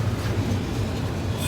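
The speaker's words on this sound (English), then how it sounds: "this is the CN westbound train going by" A CN westbound freight train rolls past the Via station at Portage la Prairie, Manitoba, a steady loud low rumble throughout, with a faint high squeal near the end.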